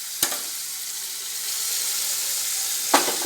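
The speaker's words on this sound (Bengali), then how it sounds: "টমেটোটা ভাজা হয়ে গেছে, নরম হয়ে গেছে, তেলে ছেড়ে দিয়েছি টমেটো থেকে।" Soft tomatoes frying in oil in a home kitchen, a steady, fairly quiet sizzle with two sharp clinks of a utensil against the pan, one near the start and one near the end.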